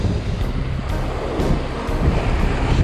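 Wind gusting over open sea on a jigging fishing trip, a steady broadband rush with surf-like swells and buffeting on the microphone that grows slightly louder toward the end, with no voices.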